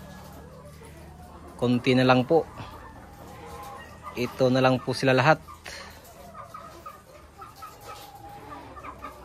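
Hens on a layer farm, fire survivors, give two loud close bursts of clucking and cackling over a steady barn hum, while someone speaks quietly between them.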